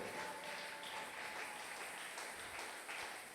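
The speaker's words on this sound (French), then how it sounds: "Est-ce que tu peux acclamer très fort pour la gloire de Jésus?" Crowd applause at a prayer marathon gathering, a steady broadband wash of clapping sustained and fairly loud throughout, with no voices over it.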